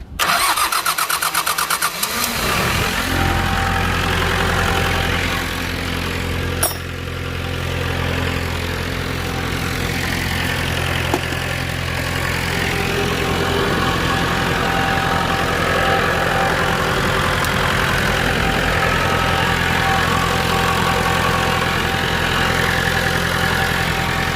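An old tractor destined for scrapping cranks and starts, then its engine settles into a steady, loud, continuous idle nearby, with a rough low rumble and no voices.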